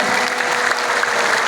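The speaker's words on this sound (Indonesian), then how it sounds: "tepuk tangan untuk kita semua." A crowd at an Indonesian anniversary gathering claps together in a brief, dense burst of applause, steady and fairly loud throughout.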